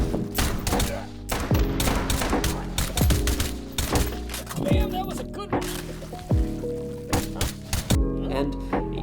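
Rapid bursts of gunfire from a VR shooting game against targets or bots, loud and dense shots repeating throughout with brief pauses, layered over game sounds and some voice.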